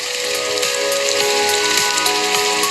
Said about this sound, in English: How are we supposed to protect ourselves from the rain if we don't have protection from an umbrella?